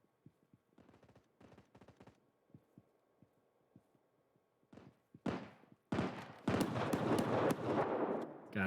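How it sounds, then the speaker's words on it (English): Shotgun blasts from the mobile shooter game Battle Prime come as a few quiet, sparse thuds and clicks, then several loud, sharp shots in quick succession near the end. "Got him with the shotgun."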